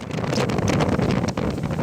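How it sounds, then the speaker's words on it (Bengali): Storm winds from Cyclone Remal sweep across coastal Patuakhali in rain, a steady loud broadband roar buffeting the microphone for the full stretch with no break. "পটুয়াখালীতে রিমালের প্রভাবে বৃষ্টি ও ঝড়ো হাওয়া বইছে।"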